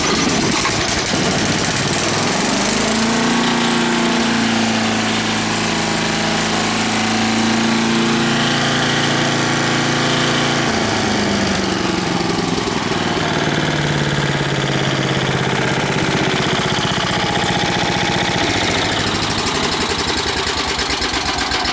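A small engine cranks, catches and settles into a loud, steady idle close by, running continuously with a slight change in pitch partway through and no voices.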